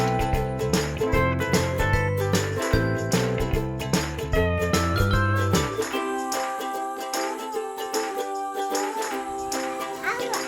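A cat meows in a kids' alphabet lesson, blended into bright, tinkling background music.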